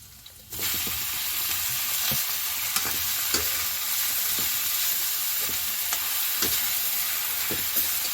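After a brief quiet start, mushrooms hit a hot pan and sizzle loudly and steadily for several seconds, with regular stirring and scraping clicks from a utensil nearby and no voices.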